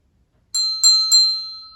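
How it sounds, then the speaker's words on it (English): A single bell is struck three times in steady succession, each clear ringing tone sustained and fading gradually, close and alone with no talk. "when you hear this bell."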